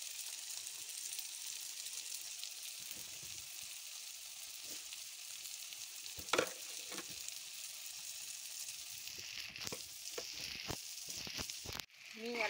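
Red spinach bhaji with turmeric, coriander powder, salt, tomatoes and onions is stirred in a pan. A faint, soft sizzle runs throughout. Several sharper scraping stir strokes come toward the end.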